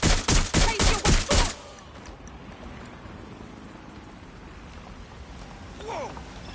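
Gunfire in the video game Watch Dogs Legion: a rapid run of about six loud, evenly spaced shots, followed by a steady low rumble with faint scattered sounds.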